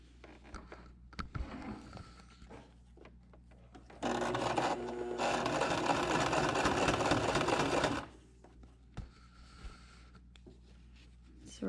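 Sewing machine stitching the pleated seam of a tie face mask, a fast close buzzing run of about four seconds with a short hitch, framed by quiet handling of fabric.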